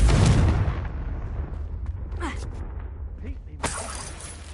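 A Confringo blast spell in a video game goes off with a loud, sharp burst right at the start, then fades into a rumbling, crackling tail with scattered debris-like clinks, and a second sharp hit arrives near the end.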